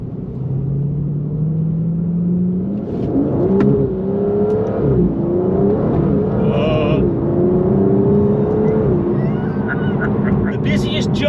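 A 690bhp Aston Martin Vantage V12 pulls away in first gear, its engine note rising and falling through revs in a loud, close, sustained drone.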